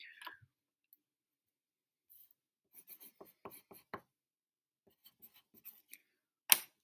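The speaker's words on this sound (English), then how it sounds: "If you can, write your name on the back of your paper." A pen scratches out a name on paper in short, quiet bursts of strokes, with a sharper scrape near the end in a hushed room.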